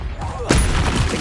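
A Confringo spell explosion in Hogwarts Legacy on PS5 bursts in halfway through as a sudden loud blast, its broadband roar staying loud for the rest of the moment after a quieter, muffled lead-in.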